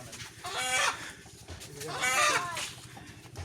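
Two chickens bought at a market cluck and squawk loudly up close in two separate bursts, with a low rumble of background noise between them.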